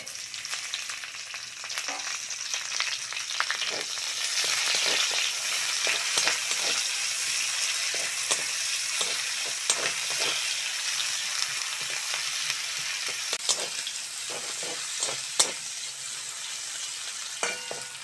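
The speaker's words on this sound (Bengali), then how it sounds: "কড়ার মধ্যে আবারও সরিষার তেল দিয়ে দেবো কাঁচা লঙ্কা আর পেঁয়াজটা দিয়ে দেবো" Green chilies and onion sizzle in mustard oil in a village kitchen wok, a continuous loud frying hiss broken by frequent scrapes and clacks of stirring.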